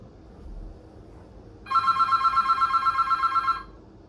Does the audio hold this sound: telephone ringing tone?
yes